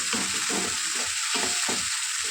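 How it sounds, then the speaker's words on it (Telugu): Chopped tomatoes fry in a pan for a broad bean rasam curry, with a constant bright sizzle over which a spatula stirs in soft, repeated pushes about every half second, close up and with no talking. "ఇప్పుడు రెండు టమాటాలని ముక్కలుగా కట్ చేసి వేసుకోవాలి"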